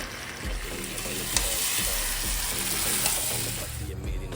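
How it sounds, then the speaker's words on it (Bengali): Mutton pieces fry in a pan, giving a dense, steady, close-up sizzle that runs unbroken the whole time with faint stirring sounds. "এইদিকে হচ্ছে খাসির মাংস যেটা কষানো হচ্ছে"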